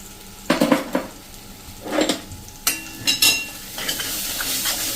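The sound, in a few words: masala being stirred and cooked in a pan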